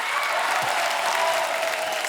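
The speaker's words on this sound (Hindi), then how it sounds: "जोरदार तालियां." Studio audience at a comedy talk show gives a short burst of steady, dense applause, loud and close throughout.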